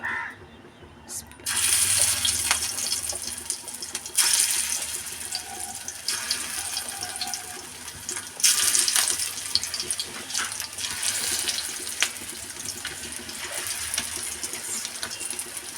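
Katla fish koftas drop one by one into hot mustard oil, setting off a loud, hissing sizzle that surges with each addition and keeps crackling close by.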